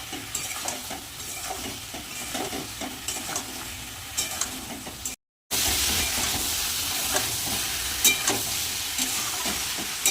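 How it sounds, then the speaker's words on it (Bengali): Spice masala fries with cauliflower and potato in a pan, giving a steady close sizzle with scraping stirs throughout and a brief break partway before the frying resumes louder. "এবার মশলাটা কষিয়ে নেব ফুলকপি আর আলু দিয়ে"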